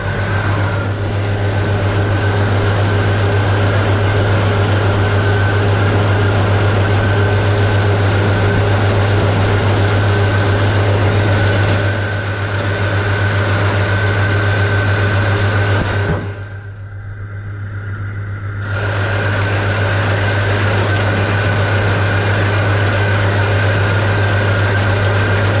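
Tractor engine running hard in 7th road gear while mowing hay in a field: a loud, steady drone with a strong low hum, holding constant apart from a brief dip in level partway through.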